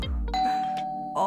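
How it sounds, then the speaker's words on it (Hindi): A doorbell chimes with a sustained electronic ding tone that rings for about a second, followed by a second press starting at the end, loud and close indoors with no talk over it. "जिंदगी में पहली बार इतना मजा आ रहा है डोरबेल बजने से।"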